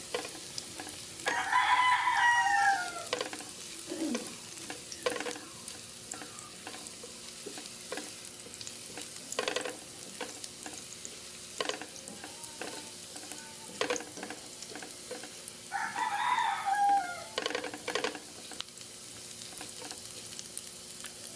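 Garlic frying in a pan until golden brown, a steady soft sizzle with occasional stirring clicks, while a rooster crows twice in the background.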